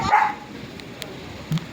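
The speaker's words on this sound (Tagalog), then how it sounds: "Aso." A dog gives a short bark near the start, fairly close, followed by quieter yips and a low whimper against a soft outdoor background.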